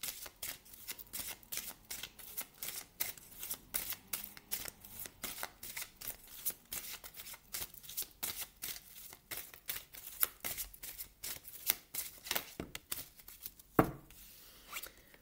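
Oracle cards from an enchanted-spells witch oracle deck being shuffled by hand, a steady run of quick riffling flutters and soft slaps that stays close and fairly quiet, with a sharper card snap near the end and no talking.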